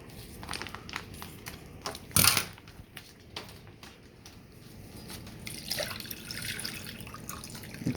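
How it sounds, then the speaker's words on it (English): Meat juice from a sous-vide chuck roast trickles and drips into a container, faint and close, with scattered splashes and one brief louder clatter partway through. "I don't want to just get rid of this juice. So I'm going to put it in here and we'll make a gravy with it."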